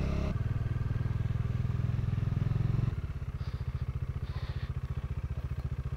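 A motorcycle riding toward a grotto in the Batangas hills, its close engine chugging loudly and steadily, then easing to a slower, pulsing putter partway through.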